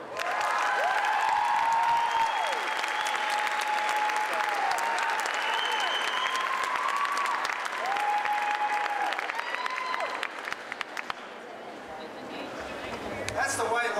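Sustained, dense applause fills a room as a reverend enters a rally at a Methodist church, steady and loud throughout with voices rising over the clapping before it thins near the end.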